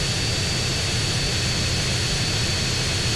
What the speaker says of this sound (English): we've got to fly the plane back to the airport now